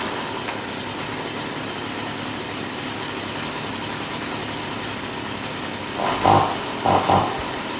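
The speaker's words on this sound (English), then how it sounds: "So as you saw, it runs, it idles" A Stihl FS55 gas string trimmer engine runs at a steady high-pitched idle, close and constant, with two short revs near the end.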